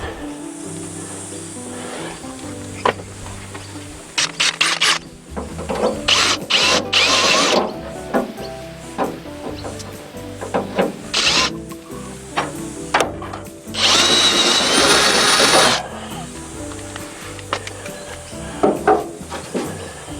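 A power drill clears paint and filler from a screw hole on an Austin Healey 100/4 in several short, stuttering bursts of whirring and grinding, with one longer run near the end and handling clatter between bursts.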